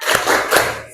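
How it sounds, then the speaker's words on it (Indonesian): Classroom of students doing the 'tepuk semangat' clapping chant, two quick bursts of group clapping and shouting close by, short and energetic. "Tepuk semangat."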